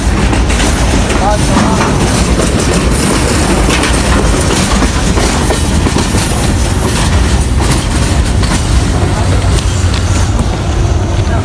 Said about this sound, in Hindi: बिल्कुल मेन जगह पे आके रुकी है ट्रेन है